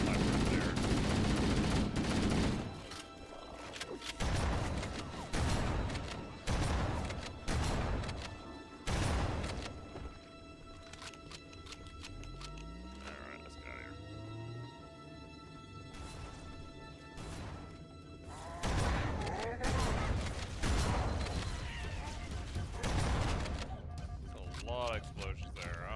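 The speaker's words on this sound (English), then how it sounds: "Explosions there, I almost died." Bursts of gunfire and explosions in a video game fight, sharp repeated cracks and heavy blasts arriving in clusters, with quieter gaps between volleys and a voice talking over parts of it.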